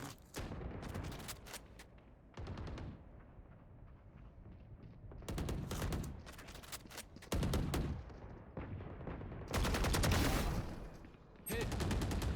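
Rapid bursts of video game gunfire crack repeatedly in clustered volleys, loud and sharp, with short gaps between strings of shots.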